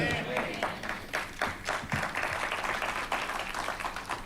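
Church congregation clapping at a worship service, a steady patter of many hands close by, with voices talking over it throughout.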